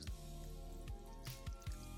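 Pasta water is added to spaghetti in a pan, giving a few soft, wet squishing drips that come close together and stay fairly faint.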